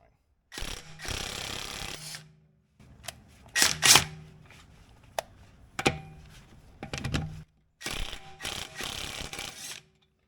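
Impact wrench zipping the wheel lug nuts off a raised Cadillac SRX during a brake pad job: several loud, sustained buzzing bursts with short pauses and clanks between them, close by and with no talking.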